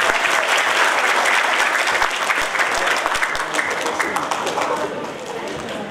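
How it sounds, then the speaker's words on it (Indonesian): Enthusiastic audience applause at a pesantren graduation ceremony in Makassar, dense continuous clapping from a large crowd that stays loud throughout and eases slightly near the end. "Boleh kita berikan aplaus yang meriah?"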